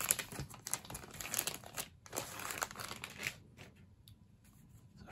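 A Star Wars Force Awakens trading card pack being opened up close, with quiet crinkling and rustling of the wrapper that fades into softer handling near the end.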